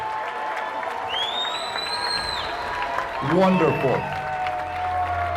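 An audience at a Khaki Ball claps for newly promoted Chief Petty Officers, a steady wash of hands beneath a speaking voice, with a brief word spoken partway through.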